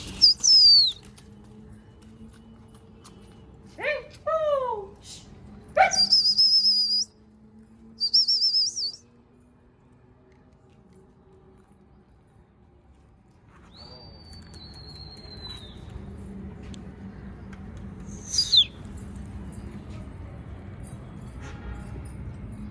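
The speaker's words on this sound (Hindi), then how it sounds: "अब चलें कबूतर उड़ाते हैं।" Pigeons kept by a pigeon fancier take off in a few short bursts of flapping wings, mixed with sharp chirps and whistles. Quieter stretches follow, with a faint background hum.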